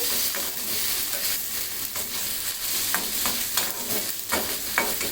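Ginger, garlic and onion fry in a pan with a steady close sizzle, punctuated by sharp scraping stirs of a spatula at an uneven rhythm, with no talking.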